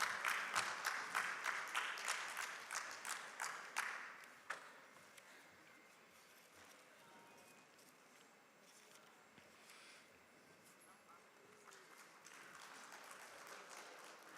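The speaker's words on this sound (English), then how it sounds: "Let's have a huge round of applause for them" An audience at a cinema business expo applauds panelists on stage, with loud rhythmic clapping that fades after a few seconds into a quieter scattered patter and then swells slightly again.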